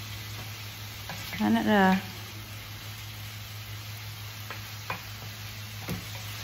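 Pork belly bistek sizzles and is stirred in a frying pan, a steady moderate hiss with a few soft scraping clicks, and a short burst of speech near the start.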